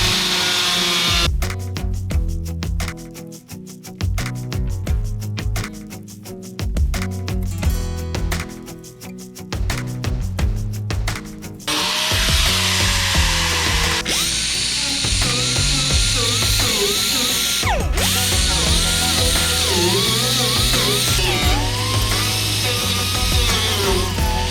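Power tool cutting a rectangle out of a cracked truck cab panel, choppy bursts of buzzing and rattling followed by a sustained high whine that rises and falls as the cut continues, up close.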